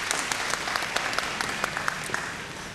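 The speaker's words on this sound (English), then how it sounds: "If we could have a round of applause, please, for Nijin Beauty and Renaissance Lodge." Audience applause at a televised singing competition stage show, a dense steady patter of many hands clapping with sharp individual claps standing out, fairly distant and sustained throughout.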